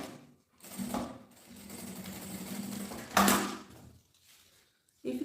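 A sewing machine runs stitches across the folded end of a gym bag strap in a short burst, then a steady longer run and a final louder spurt, with brief handling noises between.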